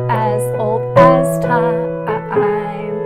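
Piano plays two measures of a song, a short phrase of clear sustained notes and chords struck in a steady rhythm, close and fairly loud with no voice over it.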